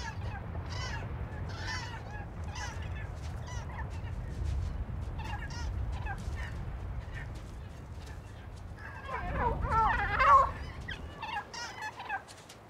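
Hens in a laying area, one latecomer among others already nesting, give repeated soft clucks and murmurs under steady low rumble, with a louder burst of squawking cackles near the end.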